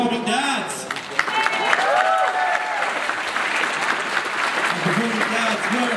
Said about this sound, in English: can we give a warm round of applause for our performing dads?